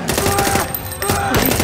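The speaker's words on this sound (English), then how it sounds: "He's shooting" Rapid, loud gunfire from a scene in the TV series The Boys, with dense bursts of shots cracking almost continuously and a brief lull midway before the firing resumes.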